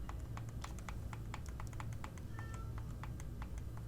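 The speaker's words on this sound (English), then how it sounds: "I'm getting distracted petting a cat now" A cat named Samuel, being petted, gives a brief, faint meow partway through, while quiet computer-keyboard typing clicks away almost constantly in the background.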